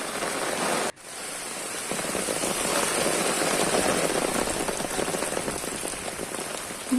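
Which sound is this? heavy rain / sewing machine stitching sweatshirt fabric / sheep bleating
heavy rain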